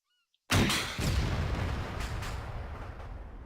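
M136 rocket launcher fires in Arma 3 after near silence, a sudden loud blast followed by a second boom and a long rumbling decay.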